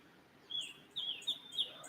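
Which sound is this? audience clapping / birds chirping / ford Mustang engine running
birds chirping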